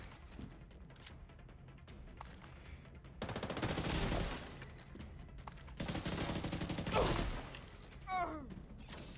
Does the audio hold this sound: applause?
no